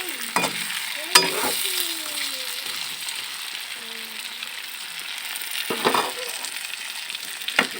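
Fish with chopped ridge gourd frying in a pan gives a steady sizzle broken by a few scrapes and clacks of stirring, with faint voices in the background.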